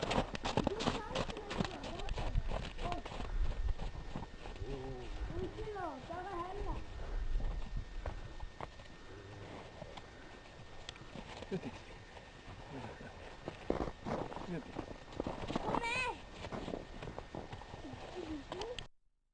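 Hooves of an Arabian horse named Sandra clip-clop on a winter day in Stavanger, irregular moderate-paced steps under people talking, with an occasional snort.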